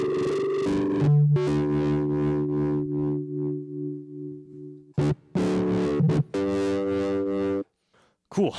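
A synthesizer runs through a distortion drive pedal, giving sustained buzzy tones with gritty harmonics that shift pitch and cut off abruptly between phrases.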